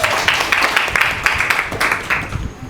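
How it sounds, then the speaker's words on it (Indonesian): Applause in a classroom, a few students clapping in a loose, rhythmic pattern, moderately loud and close, tapering off near the end with no talk over it. "Beri tepuk tangan dulu karena sudah berani menjawab."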